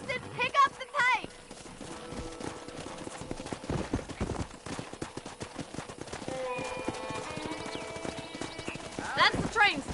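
Horse hooves clip-clop at a steady riding pace in Red Dead Redemption, with John Marston riding alongside a companion. A horse whinnies, and voices talk over the rhythmic hoofbeats.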